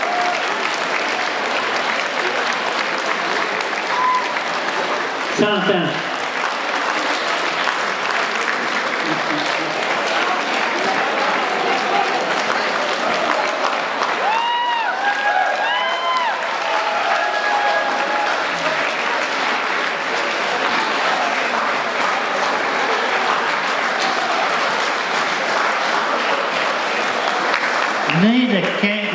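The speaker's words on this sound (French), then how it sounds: "Donc, un même applaudissement pour Mme Dupuis," Sustained applause from an audience at a Gaspé-area ceremony honouring Mme Dupuis, dense and steady throughout, with singing and brief voices rising over the clapping at moments.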